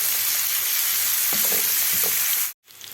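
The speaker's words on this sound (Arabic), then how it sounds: "هنزل الأول بالبصل وأقلب كله مع بعضه" Sliced onion, pepper and crushed garlic sizzle steadily in a pan, the frying hiss loud and close with a few scraping stirs, then cutting out abruptly near the end before resuming faintly.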